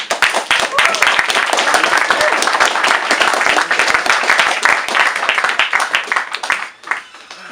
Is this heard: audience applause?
yes